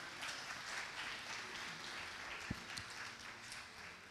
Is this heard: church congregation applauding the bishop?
yes